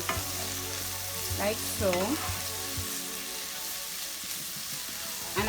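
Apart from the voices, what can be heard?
vegetables sauteing in a pot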